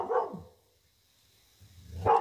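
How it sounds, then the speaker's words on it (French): Dogs chasing off intruders let out two short barks, one at the start and one at the end, moderately close, with near silence in between. "En attendant que les chiens aient fini de chasser les intrus"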